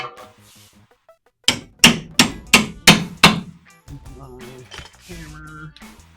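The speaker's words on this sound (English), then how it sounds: "Hammer." A hammer strikes a stuck bolt on a Chevrolet Silverado in six sharp, evenly spaced metallic blows, loud and close, with muffled talk before and after.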